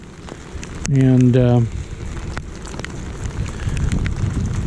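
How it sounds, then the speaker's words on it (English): Rain falling with gusty wind on an open beach during razor clam digging, a steady broadband wash throughout, briefly overtaken by a short loud voice near the start. "the rain has arrived. We got thunder going in the background."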